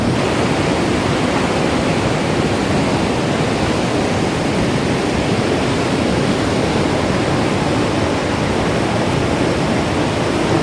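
A steady, loud rushing roar of the fast-moving Parvati River, running high after rain, unbroken from start to finish, close by and with no voices.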